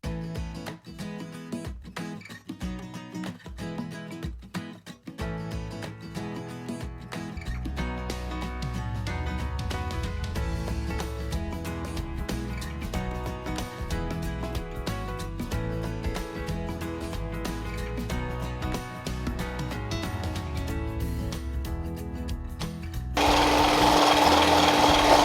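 An immersion blender with a whisk attachment whips cherry cheesecake filling in a bowl, a continuous loud motor whir that starts after some clatter and grows louder toward the end.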